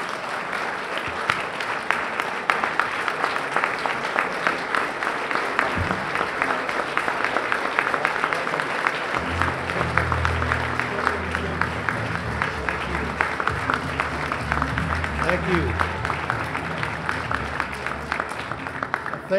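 Sustained applause from an event audience welcoming an award honoree, a dense, steady patter of many hands clapping throughout, with crowd murmur rising underneath later on.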